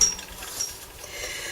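A paper punch board is pressed through doubled paper, giving a brief, faint mechanical click and crunch with no speech.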